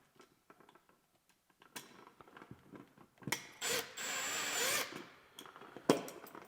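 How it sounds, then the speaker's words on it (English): A driver presets the screws on a light switch during installation. Faint scattered ticks lead into a ratcheting, whirring burst in the middle, then a final sharp clack, all close up and quiet with no talking. "Then we can use our driver"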